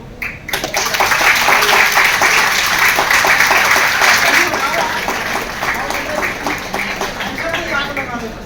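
Audience applause at a welcoming ceremony where a woman is honoured with a bouquet and shawl, a dense sustained clapping that holds steady for several seconds then thins slightly, with voices mixed in.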